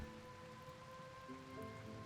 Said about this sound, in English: But it's been raining for really long.